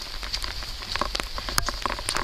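Rain falling steadily along the Appalachian Trail, a dense close patter of scattered drops and crackles, alone with no talk.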